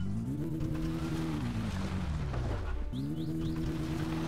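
A stolen car drives in the video game My Summer Car, its engine droning steadily and rising and falling in pitch through gear changes, loud and continuous, with no talk.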